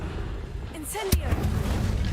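Incendio fire spell cast in Hogwarts Legacy: a whooshing rise of tones bursts into a sudden sharp boom, followed by a crackling fiery rumble over steady background ambience.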